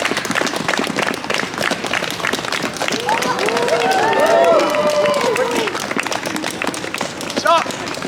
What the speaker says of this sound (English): Everyone together. Clap, clap, clap.